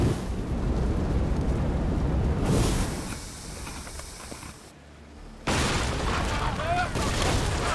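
Ship cannons fire in the Assassin's Creed game as a heavy rumbling barrage of booms, then a brief lull before another loud burst of blasts, with voices talking over the battle.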